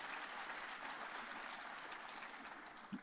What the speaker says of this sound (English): You're right to applaud.